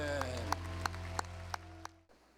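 A congregation at the 2022 Gyeongnam Christian Council August 15 special revival service claps in a steady rhythm over sustained music, with about six distinct claps before everything cuts off.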